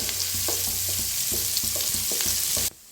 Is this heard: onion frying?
yes